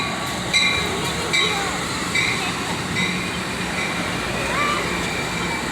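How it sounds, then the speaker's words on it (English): Amtrak passenger train heading for San Luis Obispo rolls past nearby, a continuous roar of wheels with periodic rhythmic clacks over rail joints, loud and steady throughout, with voices mixed in. "Here comes the Amtrak train."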